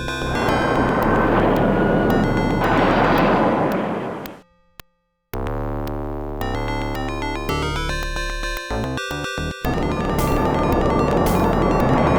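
An F-15 Strike Eagle jet takes off in the 1992 MicroProse flight-combat game F-15 Strike Eagle III. A loud, sustained engine roar cuts out briefly, then tonal electronic beeps play before the roar returns.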